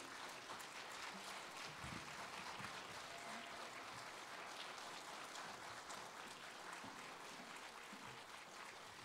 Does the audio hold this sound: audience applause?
yes